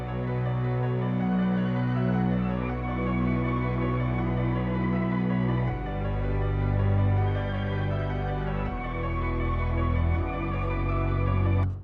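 Dark orchestral trap beat made in FL Studio, sad strings over a deep bass note pattern that steps between pitches every few seconds, dense and continuous throughout.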